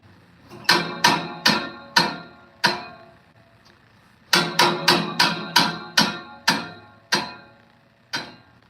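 An Ariens Deluxe 30-inch snowblower auger, spun by hand, knocks as it hits, giving a run of sharp metallic clunks in two bursts with a pause between, loud and close, with no talking.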